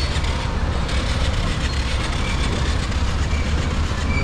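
A train rolls past on railway tracks near a congested roadside work zone, a loud, steady broadband rumble with faint rhythmic rail clatter lasting throughout, with no speech.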